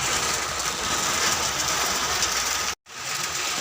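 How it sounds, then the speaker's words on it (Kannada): Heavy night rain pours onto a vehicle and tarpaulin, a loud dense roar of drumming water that drops out briefly near the end before resuming, with no speech. "ಸಖತ್ ಬರ್ತಾ ಇದೆ ಮಳೆ"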